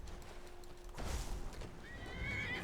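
A horse in a video game neighs in a long, rising whinny, near and clear, over a steady low background of hoofbeats and ambient game sound, with no talking.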